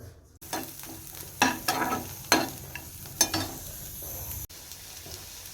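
Cabbage curry cooking in a pan, with a low frying sizzle under repeated scraping stir strokes and a few sharp utensil clacks against the pan, close and moderately loud.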